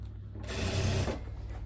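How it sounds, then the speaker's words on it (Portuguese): A sewing machine runs a brief, close burst of stitching along a seam of tailored shorts, a steady mechanical whir rising and fading within under two seconds, with no talk. "E faz a nossa costurinha aqui."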